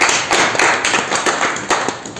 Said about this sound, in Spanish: un aplauso a sus compañeros